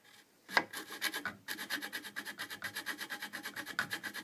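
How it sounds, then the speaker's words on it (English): A square file rasps against the end of a workpiece for a cryptex, squaring it off in steady, rhythmic back-and-forth strokes that sound close and fairly loud after a couple of brief initial scrapes. "we're going to use a square file"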